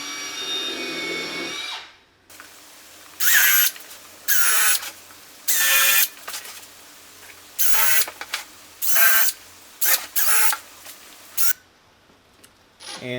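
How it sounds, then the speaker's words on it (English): A power drill bores holes into a plywood corner shelf, with about eight loud whirring bursts of a second or so each, separated by short quiet pauses. "Next I just go ahead and drill some holes."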